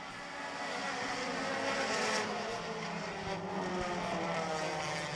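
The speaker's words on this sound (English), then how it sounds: "You can hear the car skipping badly over there in turn racing" A race car engine skipping and misfiring as it breaks down in the 35 car during a racing event, a distant rough, uneven drone with irregular pops carrying steadily across the track.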